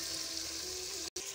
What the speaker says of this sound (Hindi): अब मैं इसमें आलू ऐड करूँगी, उनको भी तकरीबन 1 से 2 मिनट के लिए भूनूंगी